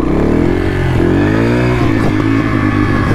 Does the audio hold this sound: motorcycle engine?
yes